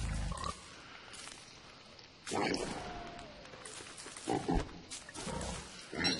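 A pig grunts in the video game Don't Starve, with a few low grunts and snorts over steady background game ambience, and a voice speaks between them.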